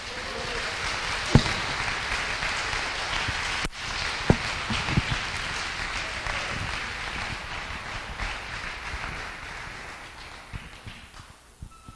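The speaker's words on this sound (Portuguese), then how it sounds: "Você pode aplaudir Jesus?" A church congregation applauds in a sustained, crowded patter of clapping with a few sharper claps standing out, slowly fading toward the end.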